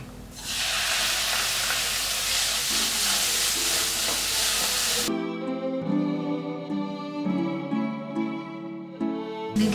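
Tomato frying with spices in a pan sizzles loudly and steadily, then the hiss cuts out abruptly halfway and gives way to a softer, uneven clatter of stirring.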